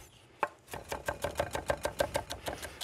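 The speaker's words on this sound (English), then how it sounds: "Quick chop." Rapid, evenly spaced knife strokes chop a celery rib on a board, roughly a dozen crisp taps in quick rhythm after one sharper opening cut.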